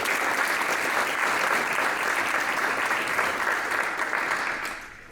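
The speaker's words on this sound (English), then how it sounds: "So let's give them a round of applause." An audience at a university engineering prototyping competition gives a sustained round of applause, dense clapping that holds steady and then fades out near the end, with no talk over it.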